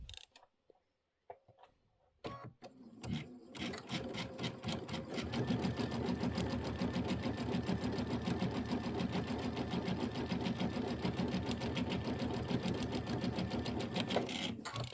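A sewing machine stitches traditional pieced quilt blocks, starting with a few stop-start clicks before settling into a long, fast, steady run of stitching up close.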